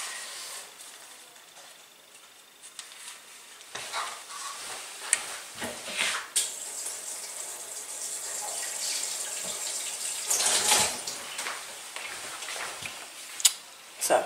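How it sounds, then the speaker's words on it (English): Hot water poured onto wool dye powder in a container and stirred, a hissing stream followed by scraping and clinking of a spatula, close and moderately quiet. "So to that I'm going to add some hot water and then stir it up so that we can get it to dissolve."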